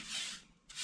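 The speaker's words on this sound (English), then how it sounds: "And then a quick clean up with that whisk broom again." A whisk broom brushes across the top of a wood cook stove in two short, soft, dry sweeping strokes close by, with a brief pause between them.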